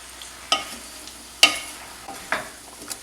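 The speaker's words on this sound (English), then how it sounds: "Stirring" Potatoes being stirred through bacon grease and onion in a soup pot over medium heat, with a few sharp scraping strokes spaced about a second apart over a soft background sizzle.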